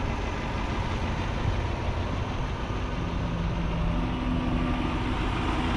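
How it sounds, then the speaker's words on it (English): A 2002 Lexus SC430 engine idles smoothly and steadily, a close, even low rumble that holds without change, with no voices over it. "Just good overall piece of machinery, this engine is."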